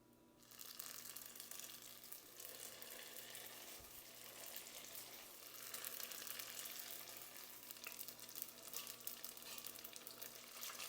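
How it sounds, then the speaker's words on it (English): Crab rangoon wontons dropped into hot oil in a large cast iron pot, giving a steady faint sizzle and crackle of frying that swells slightly over time, with no talking. "now it's time to drop these in that hot oil"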